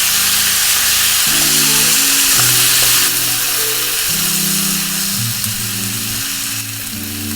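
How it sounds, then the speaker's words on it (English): Beef and vegetables for a caldereta sizzle in a pan as they are stirred, a steady loud frying hiss with scraping and clattering of the utensil throughout, no voices. "Add the beef back into the pan and stir well."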